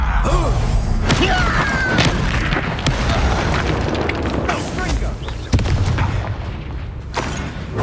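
The Confringo blasting spell in Hogwarts Legacy sets off repeated booms and thuds in a busy combat scene, explosions cracking over a dense rumbling background mixed with voices and effects.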